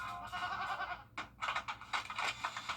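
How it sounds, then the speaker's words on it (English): Goats bleat in a TV advertisement, several overlapping cries in close bursts over a steady background bed. "What's with all the goats?"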